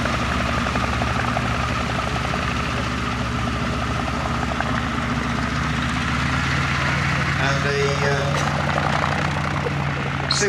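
The engine of a Westland Lysander drones loudly and continuously at a May evening airshow at Shuttleworth, a steady rasping propeller note filling the whole stretch with no break.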